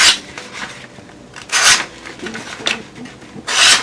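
A WE Eidolon carbon fiber integral knife with a drop point blade cuts through material, making close, rasping slicing strokes in several separate bursts with quiet pauses between them.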